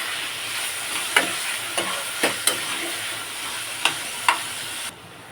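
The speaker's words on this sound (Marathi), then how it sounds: "दोन्ही एकत्र आपण भाजून घेऊया." Onion and tomato roast together in a pan with a steady sizzle and hiss, marked by several sharp taps and scrapes of a spatula stirring, close and moderately quiet, ending abruptly, with no talk.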